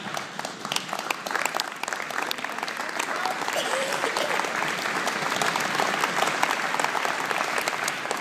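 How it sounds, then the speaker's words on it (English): Steady applause and cheering from an audience at a 2012 WCA inauguration speech, dense clapping that builds slightly and holds at an even level, moderately close, with a voice speaking faintly underneath. "Alan brings his own cheering crowd, you notice that?"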